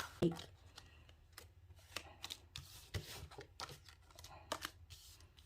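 Tarot cards being shuffled during a reading, giving a few quick riffling and slapping bursts over a low background hum, close and fairly quiet, with some speech mixed in.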